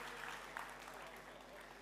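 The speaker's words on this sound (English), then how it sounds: "give yourselves a round of applause for being such an amazing attendees" Conference attendees applaud themselves at the close of community days, a faint, distant wash of clapping with a low steady hum underneath and a few sharper claps standing out.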